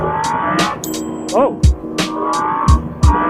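A Yamaha FZ10 / MT10 motorcycle on the move puts out a loud, steady engine drone with short revving surges and thumps, and one person gives a brief exclamation.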